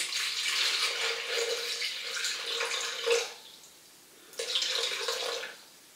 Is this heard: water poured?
yes